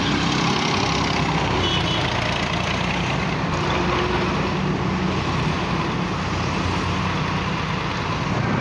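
A scooter engine drones loud and continuous while riding along a road, with steady road noise and no clear rise in pitch.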